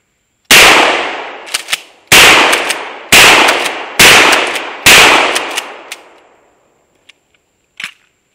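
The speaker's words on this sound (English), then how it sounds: "12 gauge shotgun" A 12 gauge shotgun firing at a rifle range, five loud booming blasts in quick succession, each with a decaying tail, followed by a few metallic clicks of the action.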